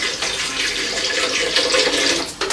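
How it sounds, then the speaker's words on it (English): A kitchen tap runs water into a cooking pot while a Sunday dinner is cooked, a continuous close splashing stream that carries on steadily and cuts off briefly near the end. "Some water."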